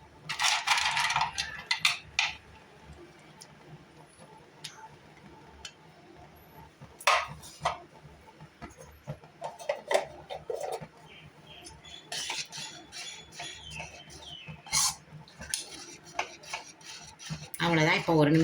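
Cashews tipped into a pan of bamboo rice halwa, followed by scattered metallic clinks and scraping of a spoon against the pan, with irregular rattles and brief clatters throughout at close range.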